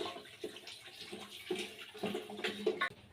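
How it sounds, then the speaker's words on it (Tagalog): Water splashes and runs as something is washed in a kitchen before cooking, with irregular sloshing and clinking bursts close by and no talk. "Siyempre ato lang hugasan natin"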